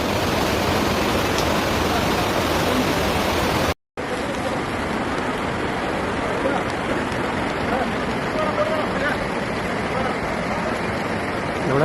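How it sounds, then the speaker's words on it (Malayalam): Floodwater rushing through a school building hit by a landslide in Wayanad, Kerala: a dense, steady roar of flowing water, loud and close, broken by a brief gap. "ഇതാ സ്കൂളിന്റെ ഇതിൽ കൂടെയാണ് വെള്ളം വരുന്നത്."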